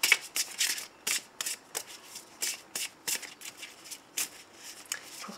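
Lenormand cards shuffled by hand at close range, a steady series of about a dozen short papery riffles and slaps at a brisk, even rhythm, quiet and alone with no voices.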